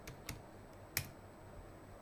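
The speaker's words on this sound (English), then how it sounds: "Now, if I type which Python" Quiet clicks of a Mac computer keyboard as a command is typed, just a few soft, separate keystrokes with pauses between them, alone in a quiet room.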